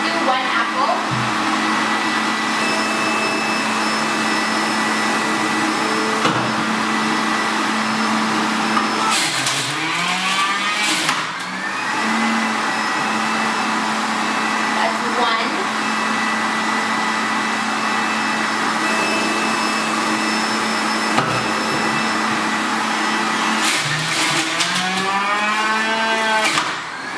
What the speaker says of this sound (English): I'm gonna juice 2 apples.